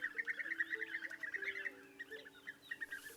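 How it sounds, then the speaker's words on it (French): A European bee-eater calls from garrigue scrubland, a run of rolling, liquid trilled notes repeated in quick sequence, faint and somewhat distant, with no voices present. "Au printemps, l'arrivée de l'oiseau arc-en-ciel, le guêpier d'Europe, est toujours un grand plaisir."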